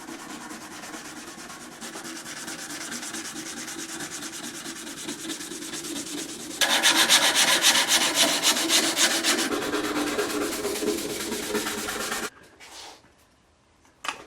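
Hand sanding on the flat side of a chef knife blade, rapid back-and-forth rubbing strokes in a steady scratchy rhythm, growing louder and harsher partway through before stopping abruptly, followed by a short quiet scrape.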